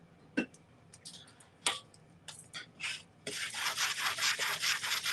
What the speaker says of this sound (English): I'm just going to sand this for a little bit, just see if I can't get some of this paint off